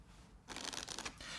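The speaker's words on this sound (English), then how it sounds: "I simply start the shuffle here and then continue shuffling" Playing cards shuffled by hand in a card magic demonstration, a short soft riffling flutter lasting under a second over a quiet background.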